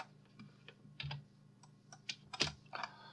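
Keyboard key presses on a computer while modelling furniture in 3D software: a handful of sharp, quiet clicks at uneven intervals, close by, with no talking.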